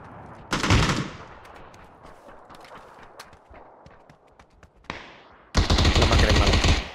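Gunfire in PUBG: a loud burst early, scattered distant shots through the middle, then a sustained close volley of automatic fire at the end.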